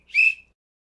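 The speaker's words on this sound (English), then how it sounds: "I'm going to blow this whistle so we can adjust the volume a little bit here." A single short, sharp whistle blast rings out loud and close, about a third of a second long, then silence follows.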